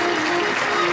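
An audience applauds steadily at a live Gujarati music gathering, a dense, continuous wash of clapping over a faint, constant electrical hum, with no break for the full second.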